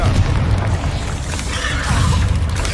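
A Confringo blasting curse detonates in a Hogwarts Legacy duel, a heavy booming blast with rumbling low end that swells, dips and rises again amid the clamor of combat.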